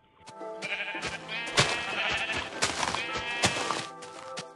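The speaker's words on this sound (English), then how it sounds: "Are you beating that sheep with a bone, Andrew?" Sheep in the Minecraft video game bleat repeatedly in quick, overlapping calls mixed with short thumps of game activity, loud and close throughout.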